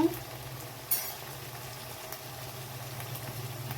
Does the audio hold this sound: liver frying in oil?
yes